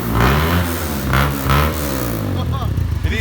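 A motorbike fitted with a new, bigger muffler revs at a factory, its engine rising and falling in a few throaty surges before settling into a rough idle, with people talking over it.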